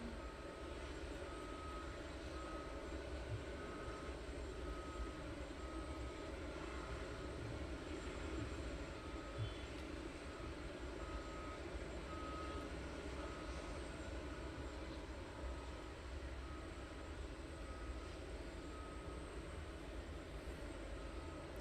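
Aircraft engines idling at East Midlands Airport at night, heard as a steady, distant droning rumble with a faint high whine, unbroken and even in level throughout.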